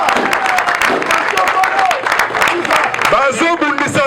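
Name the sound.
crowd applauding and cheering for the head of state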